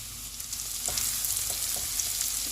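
Green onions sizzle in melted butter in a pan for a Pakistani mooli paratha filling, a steady fine crackle running throughout with a few soft stirring clicks.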